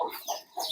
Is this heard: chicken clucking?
yes